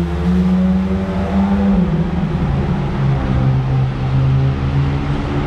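A convoy of sports cars drives past in the rain in Monaco, including a GT3 and a Ferrari 458, with a loud, steady engine drone and a rising rev that hold close for several seconds, with no talk.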